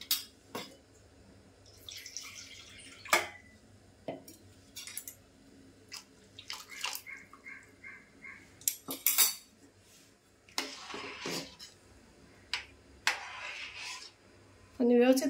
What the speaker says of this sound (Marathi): तर आता मी मसाला ओतून घेते डाळीमध्ये